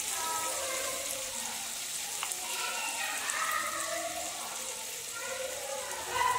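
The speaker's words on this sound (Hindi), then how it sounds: "मसाला हमारा भून रहा है" Spice masala with asafoetida fries in hot oil for an aloo matar dum, giving a close, steady sizzle with crackling spits and bubbling, briefly growing louder near the end.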